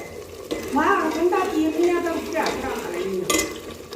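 Tadka for a Punjabi carrot-and-milk sabzi sizzles and crackles in a pan, with bursts of frying hiss and stirring, while a voice talks over the cooking throughout.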